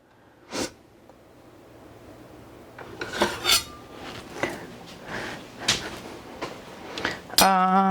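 Cutlery clinking as a knife is fetched from a drawer in a home kitchen, a few sharp metallic clatters and scrapes close by, with a bright rattle at the end.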